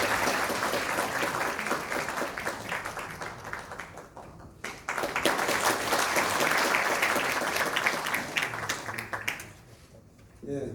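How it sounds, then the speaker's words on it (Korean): An audience at a formal civic event gives a long, dense round of clapping to welcome the mayor of Sejong City, sustained and fairly loud before thinning out and fading near the end. "큰 박수로 맞이해주시기 바랍니다"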